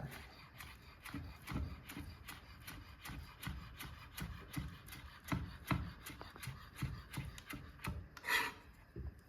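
A knife chopping chives on a wooden board, a quick, steady run of faint, close taps repeating about twice a second, with one louder scrape near the end.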